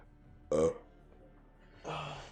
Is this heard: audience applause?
no